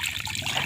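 Clean, clear water trickling steadily close by, a brief continuous splashing dribble at moderate loudness with no talking.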